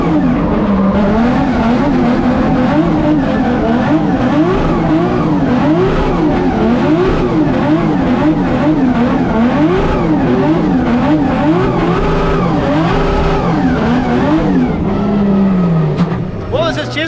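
A Nissan R35 GT-R drift car spins at a drift event, its engine revving up and down in continuous loud wavering surges with tire noise, nearby and sustained, with people talking over it.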